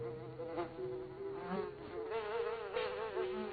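A housefly buzzes continuously and fairly close, its whine rising and falling in pitch as it darts about, with no other sounds alongside.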